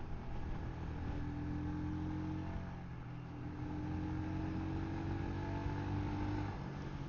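A Royal Enfield Scram 411 motorcycle rides over gravel, its steady engine drone holding at an even, moderately loud level without a break and with no talk over it.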